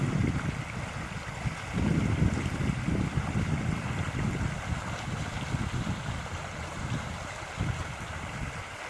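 Rapids of rushing water in a river on a mild day, a steady broadband roar that stays loud and continuous throughout, with no voices.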